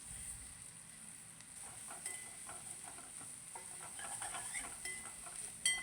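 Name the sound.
sautéing onions and curry leaves in pan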